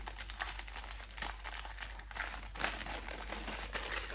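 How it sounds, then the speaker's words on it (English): A bag is opened with steady, close crinkling and crumpling of its material that runs unbroken for several seconds, with no voices over it. "There will be rustling."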